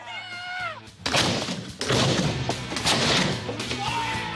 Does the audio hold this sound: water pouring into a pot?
no